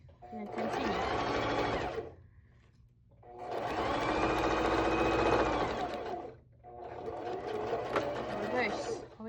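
A sewing machine stitches fabric for a scrunchie in three loud, steady bursts of a few seconds each, with short pauses between them, and a voice talks over the sewing.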